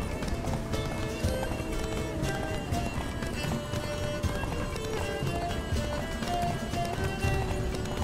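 Rapid rhythmic hoofbeats of a galloping horse in The Witcher 3: Blood and Wine pound steadily over a dense bed of music and ambient sound, continuous throughout.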